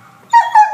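A four-month-old Irish Wolfhound and shepherd mix puppy gives a short, high whimpering whine in two quick rising bursts, close and clear after a faint lead-in.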